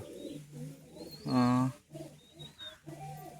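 Pigeons kept by a hobbyist coo in short, soft repeated phrases nearby, with one louder, fuller coo in the middle, while people talk quietly under them.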